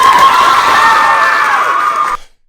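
A crowd cheering after a student government vote, loud sustained whoops and yells that cut off abruptly at the end.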